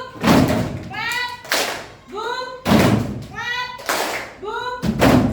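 Classroom children playing a clapping rhythm game alternate bursts of group clapping with chanted syllables, repeating in a steady back-and-forth pattern, near and energetic.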